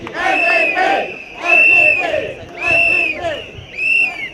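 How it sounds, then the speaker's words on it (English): A huge crowd at an SDP political rally in Bukit Gombak Stadium roars in loud repeated waves, cheering and chanting in a steady rhythm of four surges with brief dips between them. "The crowd is so huge, but there are still people streaming by."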